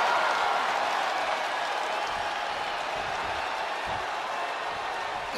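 Wrestling arena crowd at the AEW All Out 2024 event, a dense, continuous roar of cheering and applause filling the hall at steady loudness, with a faint voice underneath.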